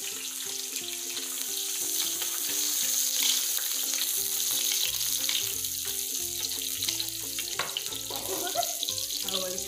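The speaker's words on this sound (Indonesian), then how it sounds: "So minyak pun dah panas. Okay, boleh kita pergi sikit lah ya. Come here. I'm going to protect you. Okay, so kita masukkan bawang merah dan bawang" Shallots and garlic frying in hot oil for a fettuccine dish, a steady close sizzle running throughout with background music and some clatter over it.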